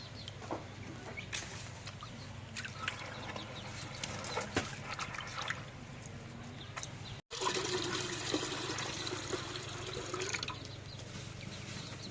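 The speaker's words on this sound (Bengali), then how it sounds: "এখন কালাইটা ধুই।" Black lentils are rinsed in water in a home kitchen, with steady splashing and trickling that swells louder in the second half, a rooster and birds faint in the background, no voices.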